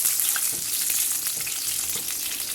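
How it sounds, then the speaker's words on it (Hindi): Spice tempering (tadka) fries in hot oil for dahi phulki, giving a steady, bright, hissing sizzle with faint crackles, close and unbroken, with no voices. "और इसका तड़का लगाएंगे हम।"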